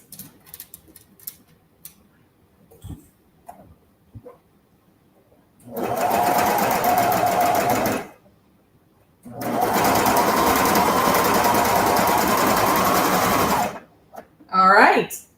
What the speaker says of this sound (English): we're going to take this on the serger and sew up these layers right here